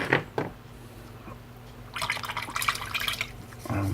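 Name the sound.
paint brush being washed in water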